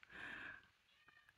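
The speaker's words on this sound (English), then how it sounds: "And the cat's meowing again." A house cat on a desk gives a single short, faint meow at the start, followed by a few soft taps in a quiet room.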